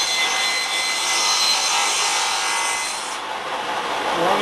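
A wood piece pushed along a table saw fence with a miter gauge while the blade cuts through it, giving a steady, loud, close whine of sawing and rubbing that drops off slightly near the end of the cut.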